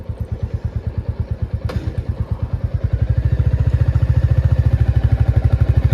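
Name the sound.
motorcycle pulling away as the clutch is slowly released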